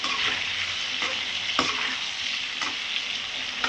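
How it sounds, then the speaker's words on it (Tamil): Brinjal frying in oil for a kuzhambu, a steady close sizzle with occasional stirring scrapes of a spoon in the pan, no talk. "ஸோ இப்போ இது எண்ணெயில் வதங்கிடுச்சு"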